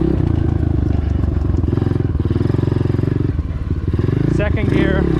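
An Apollo Z20 dirt bike engine thrums in a loud, rapid pulsing beat while being ridden and shifted, with someone talking over it and the revs dipping briefly near the end.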